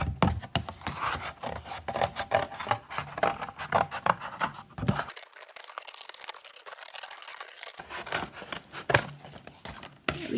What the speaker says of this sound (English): I'm just going to simply cut as neatly as I can